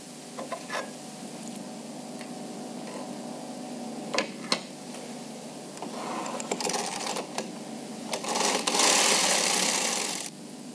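A Bond Classic knitting machine knits a row, giving soft ticking and clicking that builds into a louder, dense rasping sweep as the carriage passes, then stops abruptly.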